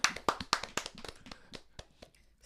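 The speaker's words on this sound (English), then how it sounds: "Let's clap for that." A few people clap in a quick burst on a morning talk show, with sharp claps close together at first that thin out and fade within a couple of seconds.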